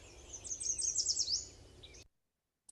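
A warbler sings a textbook song, a bright run of high, quick notes closing with a slight rising note, fairly close against a faint low hum, then silence apart from one tiny click.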